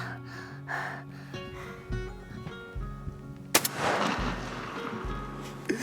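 A single hunting rifle shot fired at a whitetail buck outdoors, a sharp loud crack followed by a rolling echo, set among quiet rustling and faint breathing.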